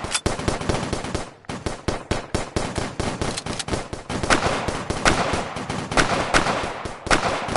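Rapid gunfire from a VR cops-and-robbers shooter played on PSVR, dense bursts of automatic and single shots cracking loudly and nearly continuously, with a brief lull near the start and no talking.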